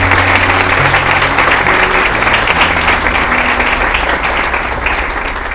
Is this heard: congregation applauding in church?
yes